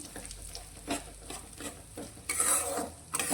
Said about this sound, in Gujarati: હવે ગેસની ફ્લેમ અત્યારે મીડિયમ રાખી અને આપણે આ સોજીને ઘીમાં સારી રીતે શેકી લઈશું।